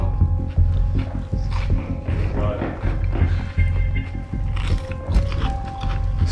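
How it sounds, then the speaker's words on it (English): Someone bites into an extremely hot chilli pepper during an eating challenge, with loud crunching and chewing up close over a continuous background of voices and room noise. "a double chomp"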